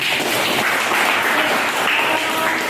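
Dense, steady clapping from a classroom of high school students fills the room for a few seconds without pause.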